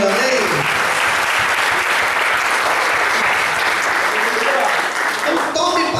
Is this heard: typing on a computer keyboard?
no